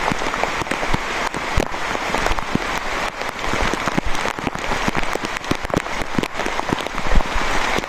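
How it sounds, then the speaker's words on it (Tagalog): Steady rain pours outdoors on a farm, a dense broadband hiss with scattered sharp drop impacts patterning the surface, continuous and fairly close throughout. "It's raining over there."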